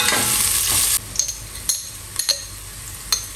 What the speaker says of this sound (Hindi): गर्म हो गई है और अब उसमें डाल देंगे एक और प्याज मीडियम साइज का, ये जैसे हल्का सा फ्राई हो जाएगा